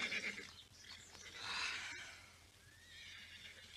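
A horse, exhausted from heavy work and of poor breed, lets out a clear whinny that rises and falls in the middle, faint against quiet background noise, with a softer neigh trailing afterward.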